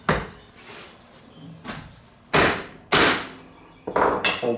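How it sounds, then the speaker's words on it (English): A chisel is driven by sharp mallet blows to chop out dovetail waste in a wooden board held down by a holdfast, about six loud, separate knocks spread irregularly, each with a short woody ring. "I'm ready to chop out the waste here"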